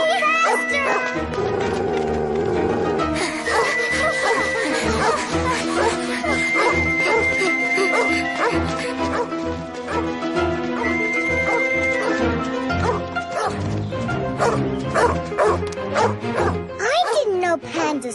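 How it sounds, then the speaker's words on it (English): A wild dog barks in an animated cartoon, yapping sharply amid excited character voices and background music. "A wild dog! Run! Run!"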